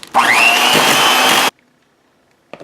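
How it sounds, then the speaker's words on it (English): An electric hand mixer whirs loudly up to speed in a bowl of butter, sugar, tangerine juice and vanilla for shortbread dough, a steady rising motor whine for about a second and a half that stops abruptly, then near silence. "I'm going to use a hand mixer and mix it until it's creamy"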